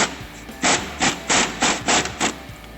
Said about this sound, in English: with the 18 millimeter wrench and a 16 millimeter socket, then we're gonna just snug these up